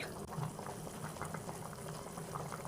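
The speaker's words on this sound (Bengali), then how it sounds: "আদা বাটা দিয়ে আলুগুলো খুব ভালো করে সিদ্ধ করে নিচ্ছি।" Potatoes with ginger paste boil in a pot, giving a faint, steady bubbling and gurgling with small pops throughout.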